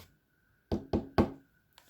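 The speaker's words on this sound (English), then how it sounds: "There followed the sound of light tapping." Light knocking on a hidden secret door: three quick, close raps in a row with a faint fourth tap just after, crisp and isolated against near silence.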